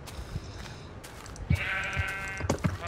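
A Minecraft sheep gives one wavering bleat partway through, heard alongside a few soft thumps and clicks of gameplay, with no speech.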